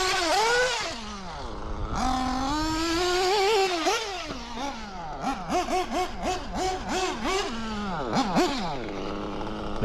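An O.S. Speed AD3 nitro model engine on its first run whines and buzzes loudly up close, with smooth pitch sweeps and then a series of quick rhythmic blips of the throttle.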